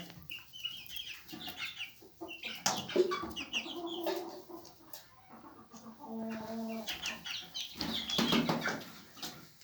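Roosters and hens cluck and crow in a busy coop, with wing flaps and bird calls overlapping at moderate loudness throughout.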